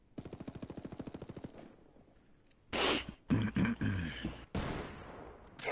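A rapid machine-gun burst opens a Ghost Recon Wildlands firefight, a loud even string of about fifteen quick shots, followed by quieter scattered bursts and heavier blasts further on.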